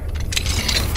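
The Alohomora unlocking spell in Hogwarts Legacy, a brief close mechanical clicking and tinkling of a lock turning, with a couple of bright metallic chimes over a low hum.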